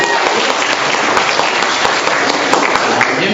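A quiz show studio audience breaks into loud, sustained applause for the high school contestants, with dense, close clapping throughout and no break.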